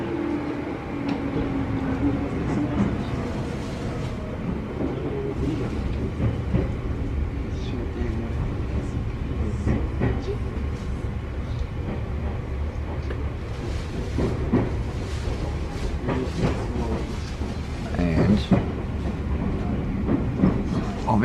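Inside a two-car train running near Mishima, Japan, wheels roll with a steady rumble and occasional clicks over rail joints for the whole stretch, loud and close with no voices.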